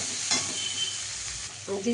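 Ingredients for eggplant bharta fry in a pan, giving a constant close sizzle with a few brief scraping stirs, and no one speaks.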